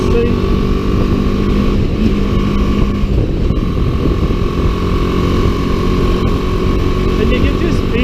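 A BMW G310GS motorcycle engine hums steadily at 5,500 RPM while riding at highway speed, a constant drone with wind noise and a rider talking over it.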